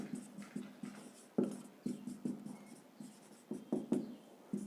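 Writing on a board during a biology lesson, a run of short scratchy strokes and taps in an irregular rhythm, close and moderately faint, with no talk.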